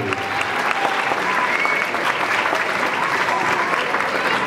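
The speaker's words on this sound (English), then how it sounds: "We can start giving them a nice round of applause as they come in." Audience applause at a school holiday concert as second graders file in: steady, dense clapping that stays loud and even throughout, with a few crowd cheers mixed in.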